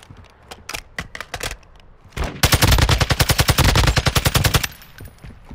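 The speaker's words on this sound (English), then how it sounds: "You are taking effective fire." Rapid automatic gunfire in the Call of Duty DMZ video game: scattered shots give way to a long, loud, steady burst of fast repeated rounds, close and dominant, then it stops abruptly.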